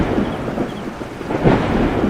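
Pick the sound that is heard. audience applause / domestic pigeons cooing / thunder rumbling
thunder rumbling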